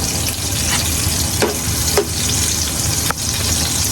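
A small amount of ginger sizzles in a hot pan for pork adobo, a continuous close crackle punctuated by a few sharp spatula scrapes and taps.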